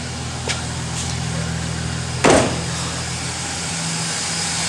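A Chevy Silverado pickup's 4.3L V6 engine idles smoothly and steadily after a distributor replacement, a constant low hum heard alone, with one brief louder click partway through.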